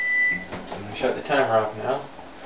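A kitchen oven timer gives a brief electronic beep at the very start, cut off quickly as a voice begins talking over the rest of the moment.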